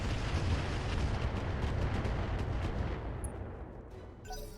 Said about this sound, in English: We're going to fire the LRMs,